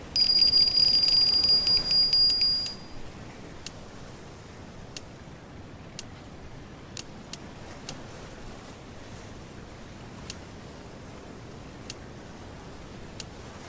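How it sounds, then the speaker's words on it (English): A bite alarm bell rings loudly and steadily for about two seconds in the fishing game Fishing Planet, then cuts off, leaving quiet ambience with faint, sparse ticks. "Oh, the bell's ringing."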